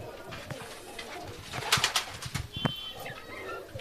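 Madras pigeons coo in short, soft bursts at close range, with a brief flutter of activity in the middle and quieter calls trailing off.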